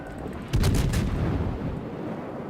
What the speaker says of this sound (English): He is firing high explosive at me